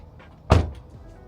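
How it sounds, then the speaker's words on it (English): A vehicle door swings shut with a single loud, close thud during a custom seat cover installation in a car interior, followed by quiet room tone. "Close the door."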